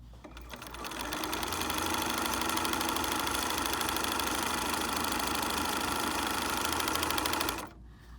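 A serger or sewing machine stitches along the edge of a bishop sleeve, a close, steady mechanical whirr that starts after a brief pause, runs continuously for several seconds and then stops abruptly.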